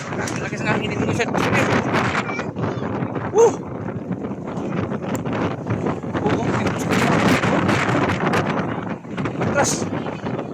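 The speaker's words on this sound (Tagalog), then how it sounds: "Lakas ng hangin dito guys." Strong typhoon wind roars and buffets the microphone continuously at Divisoria market in Pamalingki, with a few faint voices underneath.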